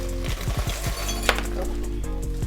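A wine glass clinks and rings as it is picked up, several light taps in quick succession followed by one brighter ping, close and clear with no talking.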